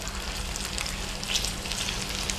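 Chicken pieces fry in garlic butter over a low flame with a steady, close sizzle and crackle and a low background hum, and no one talks.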